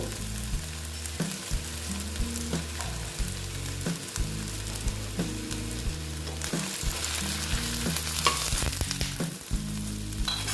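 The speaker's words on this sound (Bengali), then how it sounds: "মোটামুটি ভাজা হয়ে গেছে এবার আমি লতিটাকে তুলে নেব" Steady oil sizzle as taro stolons fry, with repeated scraping and stirring clatter from a utensil in a pan, continuous throughout, close and fairly loud.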